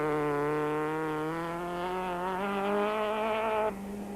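Class D Volkswagen Golf rally car on a mountain trail stage, its engine note climbing steadily through the revs before an abrupt drop at a gear change, loud and close with no talk.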